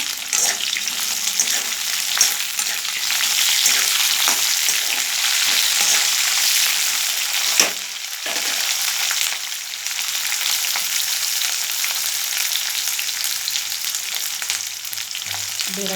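Onions frying in a pan for sambar give a loud, continuous sizzle, broken now and then by sharper stirring scrapes, with no one speaking.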